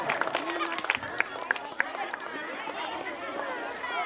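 An audience at a school annual day claps to welcome guests, scattered sharp claps rising into a broader murmur of applause and crowd chatter.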